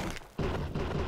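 A firework bursts in the battle game Totally Accurate Battle Simulator with a sudden loud boom, followed by a sustained rumbling blast and a second, softer burst.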